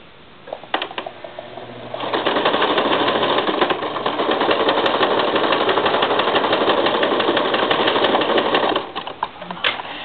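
Canvas edges run through a sewing machine, finishing them against fraying, in a loud, fast, continuous mechanical chatter lasting about seven seconds, preceded and followed by faint handling clicks.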